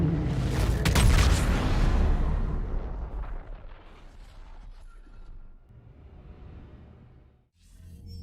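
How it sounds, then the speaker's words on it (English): Heavy kinetic cannons firing in Mass Effect 3, a deep booming blast up front that rumbles and decays slowly into a long low tail, with a faint later thud near the end. "Those are clearly kinetic weapons. Big fuck off cannons,"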